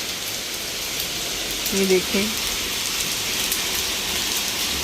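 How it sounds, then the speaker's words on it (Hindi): Heavy rain with small hailstones falls in London as a steady, dense hiss, loud and continuous throughout, with someone speaking briefly over it. "बहुत तेज़ बारिश हो रही है, ओले पड़ रहे हैं।"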